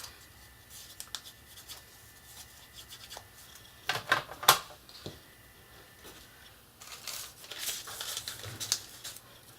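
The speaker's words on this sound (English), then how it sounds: "A little burnishing." Faint, scratchy rubbing as the top edge of a Christmas village building base is burnished, in short irregular strokes with a louder flurry near the middle and another toward the end.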